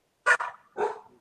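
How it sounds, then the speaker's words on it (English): A dog barks twice, short and close, with a brief gap between the two barks, in an otherwise quiet room. "Does he always bark?"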